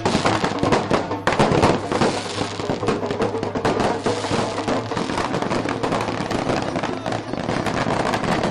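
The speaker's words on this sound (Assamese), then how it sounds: "কেনেধৰণে ফটকা আতচবাজি ফুটিছে" Firecrackers and fireworks burst without pause at a street celebration in Bhopal, a loud, dense, crackling barrage with sharp pops layered over one another throughout and no clear speech.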